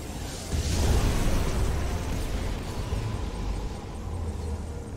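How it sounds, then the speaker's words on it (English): A heavy, rumbling ion cannon blast in Command & Conquer 3: Tiberium Wars swells and lingers for several seconds, a dense roar of low booms and crackling debris in a game battle. "Ion cannon activated."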